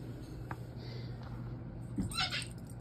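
A kitten gives a short, faint meow near the end amid soft room noise, with a few small taps earlier and no clear speech.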